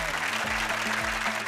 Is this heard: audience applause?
yes